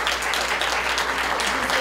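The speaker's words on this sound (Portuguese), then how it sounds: "Vamos aplaudi-la" An audience at an academic education event gives a dense, steady round of applause, many hands clapping together throughout.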